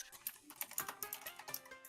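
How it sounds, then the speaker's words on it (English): Rapid typing on a computer keyboard, a quick irregular run of crisp key clicks close to the microphone for about two seconds, with no talk. "I hear you typing it!"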